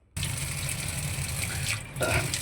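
Mangoes rinsed under a running tap, a steady close gush of water into a sink that starts abruptly and keeps flowing, with a brief shift in splash near the end.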